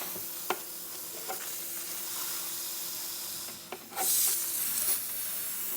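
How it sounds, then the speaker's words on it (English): Pressurized nitrogen, about 200 psi, is released from the reservoir of a Fox Live Valve shock off a 2019-2020 Ford Raptor using an Allen wrench: a few faint clicks, then a short, sharp burst of hiss near the end. "we need to remove the nitrogen that's inside of the reservoir"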